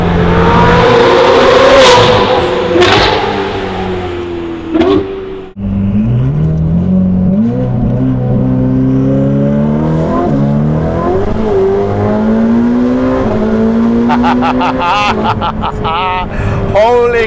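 A Ferrari F8 with a Novitec exhaust roars hard through a tunnel, revving up through several gear changes with loud echoing blasts and crackles, as people talk excitedly over it.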